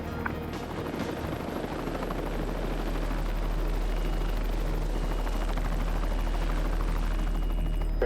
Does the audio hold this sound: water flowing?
no